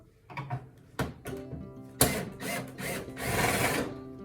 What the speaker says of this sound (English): Right, so now I got to remove these screws here.